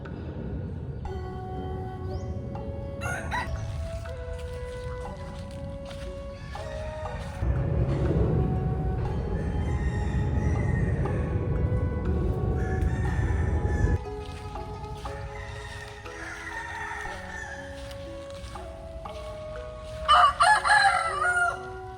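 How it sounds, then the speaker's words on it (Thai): Rooster crowing in the grounds of a forest temple in Chiang Mai, with other birds and a steady background hum; the crow comes through clearly several times across the stretch, moderately near, with no talking. "แล้วก็มีเสียงนก เสียงไก่ เสียงลมพัดผ่านต้นไม้ใหญ่"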